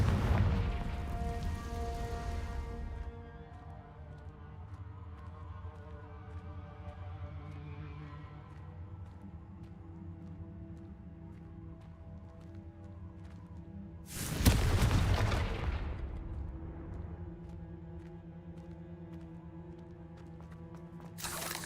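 Confringo blasting spell in Hogwarts Legacy, a loud explosive burst with a fizzing rush at the start, then a ringing, droning lull, and a second sharp blast in the middle that decays slowly.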